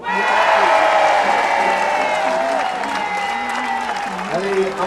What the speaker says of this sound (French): auquel viennent se mêler les longs applaudissements des centaines de personnes présentes